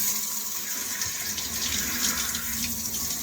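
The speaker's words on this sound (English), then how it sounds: "Gonna take a cold shower now." Cold shower water runs and splashes steadily in a bathroom, a continuous hissing spray with no pauses, close and moderately loud, with no voices.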